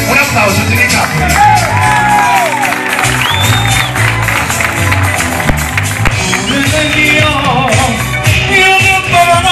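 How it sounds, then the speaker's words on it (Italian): An audience at an outdoor summer concert in Trinitapoli, scattered whoops and shouts with some clapping mixed loudly into the band's music and singing. "Un applauso, Trinitapoli."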